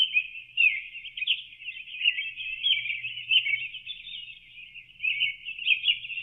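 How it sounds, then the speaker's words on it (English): Birdsong setting on a SoundMe noise machine, a continuous warbling stream of high chirps and tweets that rises and falls steadily over a faint low hum, with no speech. "This one is birds singing."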